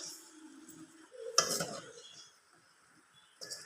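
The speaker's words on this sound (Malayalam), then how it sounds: "ഇനി ഇതൊന്ന് ഇളക്കി" Jackfruit seeds and onions being stirred in a pan for a masala thoran, soft scraping and a brief clink of a utensil against the pan, close and quiet with no talk.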